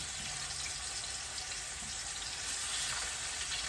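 A thick ahi tuna steak sizzling in a pan just after being flipped, a steady close frying hiss that holds evenly throughout with no talking.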